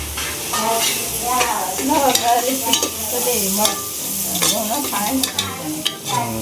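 Spices crackle and sizzle in hot oil, with scattered stirring clinks and indistinct voices talking in the background.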